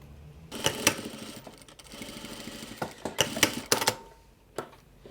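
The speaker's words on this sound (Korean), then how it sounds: "먼저 이 길게 자른 62cm 짜리 바이어스 감을 이렇게 1cm 들어와서 박음질 해줍니다." A sewing machine stitches a 62 cm strip of bias tape about 1 cm in from the edge of a homemade fabric mask, running in several short, close, rattling bursts with brief pauses between them.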